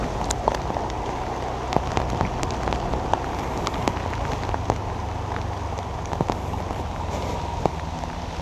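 Heavy rain pours down on a Saigon street, a dense, even hiss with scattered sharp drops striking nearby surfaces, and no talk.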